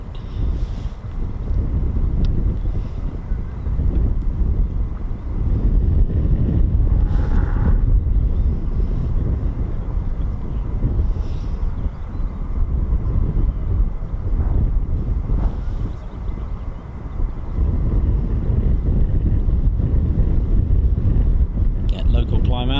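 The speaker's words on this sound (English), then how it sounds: "And the wind's come now." Wind buffets a microphone outdoors at an airbase, a loud, continuous low rumble that roars steadily throughout, with someone talking faintly underneath.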